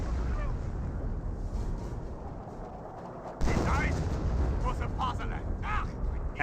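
Artillery fire in the Company of Heroes strategy game: steady rumbling battle noise, with a sharper broadband blast about halfway through that lifts the level, then continued shelling and crackling fire.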